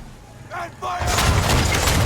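A ship's cannon fires chain shot in an Assassin's Creed 3 naval battle, a sudden loud broadband roar that bursts in after a brief voice and keeps rumbling to the end, near and heavy.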